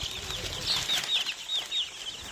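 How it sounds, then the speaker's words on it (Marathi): Native chicks ten to twelve days old flutter and hop about, making soft quick wing flaps mixed with high, thin chirps, close by and fairly quiet. "आपण समोर बघत आहात हे 10 ते 12 दिवसाची गावरान कोंबडीची ही पिल्ले आहेत"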